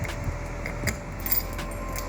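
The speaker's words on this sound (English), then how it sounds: "I finally got my keys for the rear hatch, and let's see, they work just fine here if I can get them in here." Keys for the rear hatch of an old camper shell jangle near the lock in a series of light metallic clinks, with a steady outdoor vehicle hum underneath.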